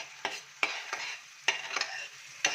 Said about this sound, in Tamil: நல்லா வதக்குங்க ஆயில் இந்த பச்சை வாசம் போகிற அளவுக்கு நல்லா வதக்குங்க